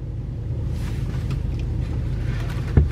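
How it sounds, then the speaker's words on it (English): A nearby engine runs with a steady, low, throaty rumble that holds at an even level throughout, ending with a short thump. "he's been revving that engine over there like it's a big deal"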